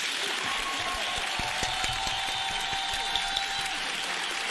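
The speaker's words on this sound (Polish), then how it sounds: "Wielkie brawo." Studio audience applause on a Polish television quiz show, steady dense clapping from a crowd that holds at an even level throughout with no voices over it.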